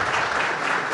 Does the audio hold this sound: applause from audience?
yes